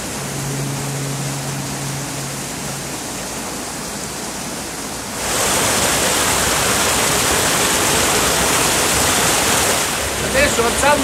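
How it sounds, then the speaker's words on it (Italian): A loud, steady rush of water through a sawmill sluice gate in the Aosta Valley, Italy, surging even stronger partway through as the gate is raised, continuing as a dense roar. "adesso alzando questa paratoia mando l'acqua verso la segheria e chiudo questa"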